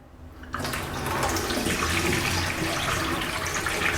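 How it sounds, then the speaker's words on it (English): Water drains out of a basin after face masks are rinsed in hot saline water, a steady gushing, gurgling flow that starts abruptly and continues evenly at a moderate, close level. "After that, again, the same way we did in the first one, drain off the water."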